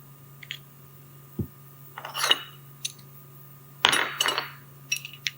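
Metal sleeves of assorted sizes from a clock mainspring winder set, used on a Seth Thomas 401-003 barrel, clinking and rattling as they are handled, in several sharp bursts with quiet gaps under a faint steady hum.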